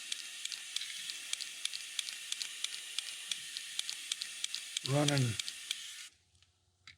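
Airbrush spraying thinned brown paint at 10 to 12 PSI in fine stippled splatter over a custom fishing bait, a steady bright hiss ticked by small regular spits, briefly interrupted by a short low burst before stopping.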